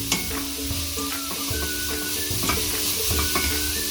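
Cabbage frying for a vegetable Spanish omelette, a loud steady sizzle in the pan with repeated scraping and stirring knocks from a utensil, close by and without speech.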